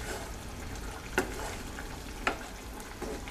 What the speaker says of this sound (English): let it simmer until the meat's nice and tender